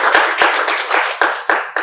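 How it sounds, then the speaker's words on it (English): Audience clapping for a speech contestant, a close cluster of hand claps forming a short, uneven round with a few sharper individual claps near the end. "please give him another round of applause."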